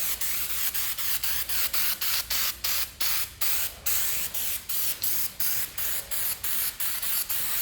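Chemical paint stripper being sprayed onto a motorcycle gas tank in rapid, regular hissing bursts from a trigger sprayer, close and loud, about two pumps per second with short gaps between them.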